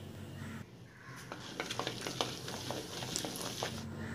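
Mustard seeds and lentils sizzling and popping in hot oil, with a stirring scrape and crackles scattered throughout.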